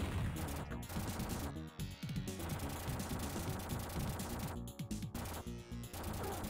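Gunfire in Terminator 2: The Arcade Game on the Sega Genesis, loud rapid bursts of digitized shots and impacts repeating in quick rhythm with brief gaps, alone with no talking.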